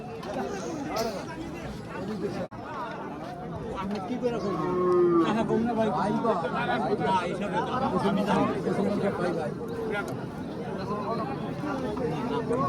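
Cattle at a crowded Qurbani cattle market low and moo amid a steady hubbub of chatter and bargaining voices, the animal calls mid-distance and recurring beneath the talk.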